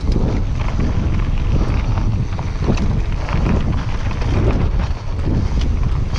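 Steady, loud wind roars and buffets the microphone along a mountain bike trail, a continuous rushing noise with gusty swells and no clear pauses.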